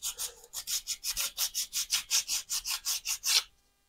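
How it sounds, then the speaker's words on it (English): Close, dry rasping strokes of 100-grit sandpaper wrapped on a wooden tongue depressor rub across a 3D-printed plastic part, about fourteen quick rhythmic back-and-forth passes that stop abruptly. "So just a quick little hit with the sandpaper just to get the dimples off."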